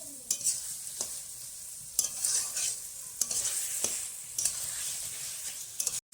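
Goat mutton frying in a pan with garlic paste, stirred in repeated scraping strokes over a constant close sizzle, with no talk.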